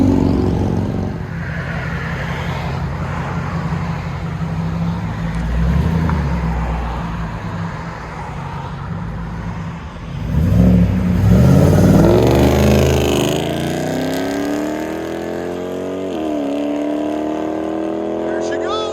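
A 2008 Ford Mustang GT California Special with a 4.6L V8 and Pype Bombs exhaust rumbles and revs loudly nearby, surging harder midway into a rising roar before easing, with voices talking over parts of it.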